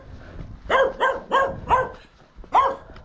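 A dog barks on a country road along the Camino Inglés, with about five sharp, fairly close barks in an uneven rhythm, the last one after a short pause. No one talks over them.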